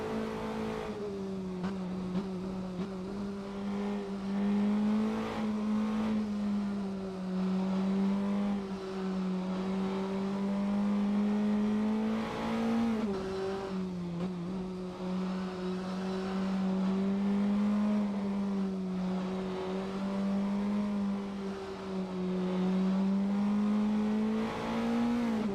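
GT4 race cars in a sim racing game roar steadily, the engine note rising and falling through gear changes and corners with brief tire squeal, continuous and up front for the whole stretch.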